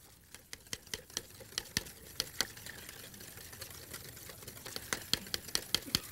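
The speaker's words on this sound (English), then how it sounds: "And look, you whisk it in." Sugar is whisked into a carrageen pudding mixture, a wire whisk ticking rapidly and rhythmically against the bowl in a long run of light clicks, close but fairly quiet, with no voices.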